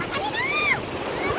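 Sea waves washing in at a shallow beach, a steady close rush of surf and water, with voices calling out over it.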